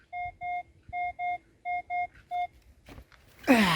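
A metal detector searching near two old castles in Czechia gives a series of short, clear electronic tones in pairs and singles, fairly close, followed by a brief scrape or rustle at the end; no one speaks.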